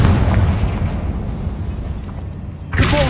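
The Confringo fire spell explodes in Hogwarts Legacy: a loud, close blast with a long rumbling roar that slowly fades, then a second sharp burst of debris and crackle near the end.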